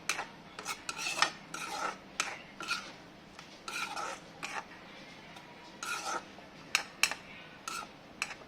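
Irregular scraping and rasping strokes of a utensil stirring potatoes frying in a pan, with a faint sizzle underneath, close and moderately loud.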